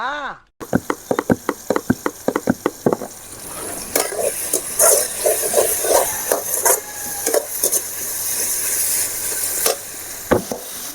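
Tomatoes sauté in a pan for a mutton lung and liver gravy. A spoon scrapes and knocks in quick strokes over a low, steady sizzle.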